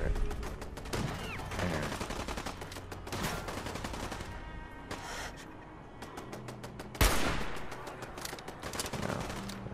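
Machine gun turret fire in Fallout 4: loud, rapid bursts of gunshots recur across the scene, with sharp blasts standing out among the game's other sounds.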